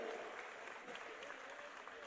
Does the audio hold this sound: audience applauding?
yes